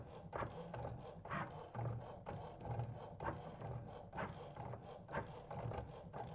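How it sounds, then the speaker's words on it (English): A Cricut cutting machine running iron-on vinyl through for a second cut, giving a steady mechanical whir broken by repeated clicking, ratcheting movements, close and unaccompanied by talk. "I'm just putting it through the machine again to make sure that it has cut through"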